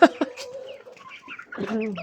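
A rooster crows near the mic in a Georgian farmyard setting, a drawn-out call with a rising end, broken by brief clucks and a voice.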